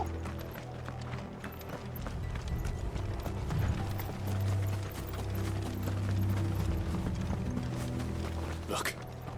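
Horses' hooves in the video game Final Fantasy 16 clatter in a rapid, mechanical clip-clop under a steady low rumble, with voices speaking over the galloping.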